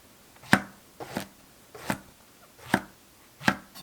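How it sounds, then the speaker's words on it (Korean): Knife scoring a king oyster mushroom held between wooden chopsticks on a board, five crisp evenly spaced chops landing about every 0.7 seconds, close and clear with quiet gaps between. "나무젓가락 사이에 버섯을 두고 칼집을 내주세요"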